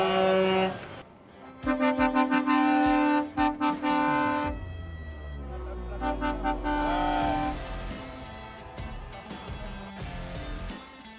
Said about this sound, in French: Et vous allez voir, ça va être un concours de klaxons.